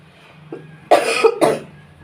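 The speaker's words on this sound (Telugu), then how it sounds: "మాట్లాడుతుంటే దగ్గు వస్తుంది" Two harsh, loud coughs close to the listener, preceded by a small throat sound, then quiet.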